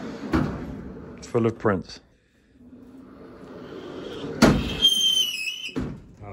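A large, very squeaky plan chest in a print studio has drawers opened and closed, giving wooden knocks and a loud, high squeal, with a person talking between the sounds.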